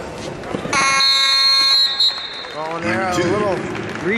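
Period-ending buzzer at the 149 lb final of a college wrestling match, a loud sustained electronic tone lasting just over a second, followed by an announcer talking over crowd noise in the arena.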